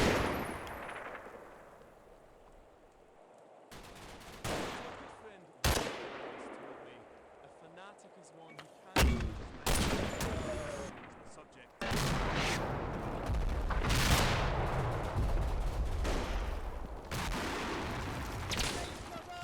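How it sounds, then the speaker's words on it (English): Mortar barrage and suppressive gunfire in the Combat Mission video game, a WWII battle at Mondrainville in Operation Epsom: loud sharp reports and booms in separate bursts, then a dense, continuous roll of firing and blasts. "the platoon goes to work on suppressive fire. We also have an 81mm mortar barrage pre-called in along that line of hedgerow"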